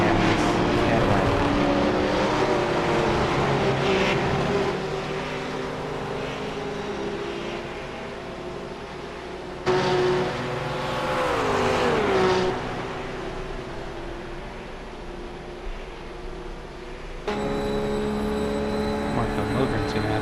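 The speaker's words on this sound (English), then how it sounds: "Andy just got a nice slipstream off the back of his Cadillac coming down the straight" Race cars in a GT Open sports-car race at Daytona, including a Cadillac, roar loudly down the straight in a sustained engine drone with rising and falling passes, under continuous commentary.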